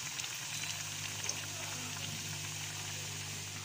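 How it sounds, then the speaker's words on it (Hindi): Bread snacks fry in hot oil over a medium flame, giving a steady, soft crackling sizzle with fine popping throughout, close and continuous without talk. "अब इसके अंदर ब्रेड स्नैक्स डाल के इसे 2 मिनट के लिए फ्राई करेंगे ईच साइड से"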